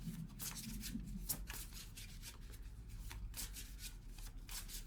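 A deck of tarot cards is shuffled close up in a steady run of riffling, rubbing bursts for about five seconds, with no talking.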